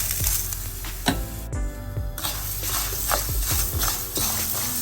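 Washed urad dal (black gram) roasting in a hot pan, a continuous sizzle with repeated scraping strokes as the lentils are stirred and shuffled across the metal.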